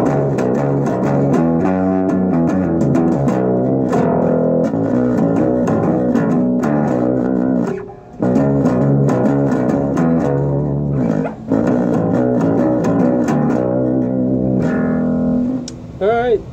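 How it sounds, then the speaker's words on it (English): Ibanez Gio Soundgear five-string electric bass picked through a guitar amp, a steady run of loud, sustained notes with a few brief gaps, and no voices over it. "Using a guitar amp. Alright, now with the pick."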